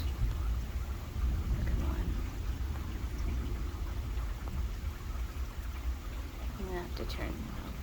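Nasty nighttime thunderstorm with steady broadband rain hiss throughout and low rumbling thunder underneath, fairly loud and continuous, with a few faint chirps near the end.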